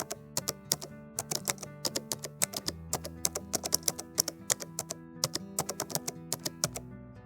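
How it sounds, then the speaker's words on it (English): A command typed on a computer keyboard, a close, steady series of crisp individual key clicks in a quick rhythm over a low electronic hum. "I'll launch command prompt and run it as administrator, and then type dsregcmd.exe/status."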